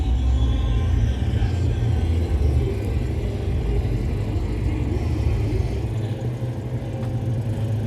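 Citroën 2CV cars driving over bumpy ground at the World Meeting of 2CV Friends in Samobor, Croatia, a steady low engine rumble and whir from nearby cars, with a voice faintly audible beneath.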